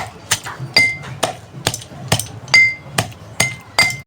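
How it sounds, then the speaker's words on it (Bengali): Jaggery crushed by hand in a home kitchen, about a dozen sharp hard knocks in an uneven rhythm, some with a brief metallic ring, close and loud. "গুড়টা একটু থেতো করে নেব"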